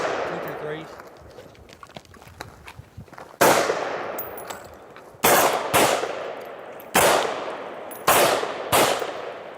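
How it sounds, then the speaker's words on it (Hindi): Gunshots fired at a shooting range in the USA, five loud sharp reports with ringing decay spaced about two seconds apart, following quieter handling noise and distant talk. "We just want to see how it feels when you're taking that first shot right now."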